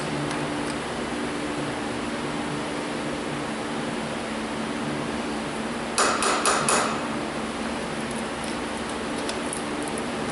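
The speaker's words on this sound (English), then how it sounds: "Just use a 10mm wrench. Loosen up the nut." A 10mm wrench loosens the battery terminal nut on a Toyota Corolla, giving a brief cluster of sharp metallic clinks near the middle against a steady background hiss.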